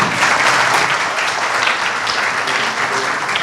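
Loud, dense applause fills a hall at a cinema academy finale, an audience clapping steadily with no break from start to finish.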